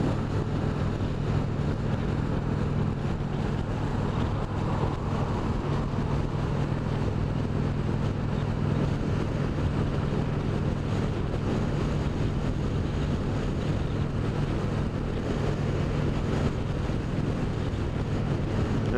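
Steady wind rush buffets the microphone while riding an Indian Springfield Dark Horse motorcycle, with a constant low engine drone beneath it; continuous and loud, with no talking.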